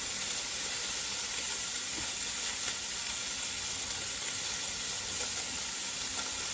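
Half a red onion sizzles in a pot for a chuck roast, giving a steady, loud bright hiss that runs unbroken throughout with no talking.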